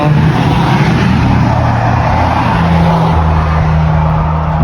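Highway traffic roars loudly and continuously beside a roadside stop, with a low engine rumble from passing vehicles.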